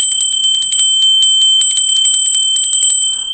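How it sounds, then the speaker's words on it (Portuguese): A bright notification bell sound effect rings in rapid, repeated metallic chimes that sound alone and loud for over three seconds. "não esqueça de acionar o sininho"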